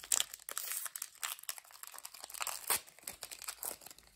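Packs of trading cards being torn open up close, with irregular crinkling and ripping of foil wrappers in quick, scratchy bursts, no talking.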